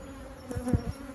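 Honey bees buzzing at a hive in a single brood chamber, a faint steady drone with a few louder passes close by.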